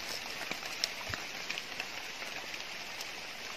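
Steady rain falling outdoors, a soft continuous patter with a few sharper drops standing out, fairly faint and even throughout with no voices.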